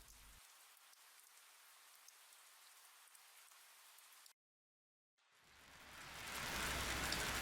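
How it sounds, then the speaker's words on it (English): Steady rainfall in the visual novel KIRA☆KIRA hisses on a surface, cuts to silence for a moment, then returns as a heavier, louder downpour. "It's raining heavily."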